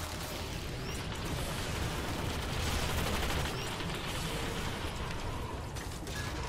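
A dense, continuous roar of launcher fire and explosions from the Ogris in Warframe fills the scene, loud and unbroken without distinct separate blasts.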